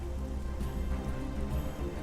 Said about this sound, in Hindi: बारिश शुरू हो गई।